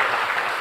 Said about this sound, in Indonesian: tepuk tangan buat Pak Epi